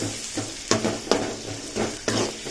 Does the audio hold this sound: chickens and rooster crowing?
no